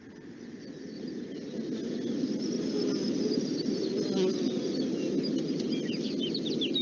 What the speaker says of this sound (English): I'd like you to hear what a field like this might sound like on a morning in June.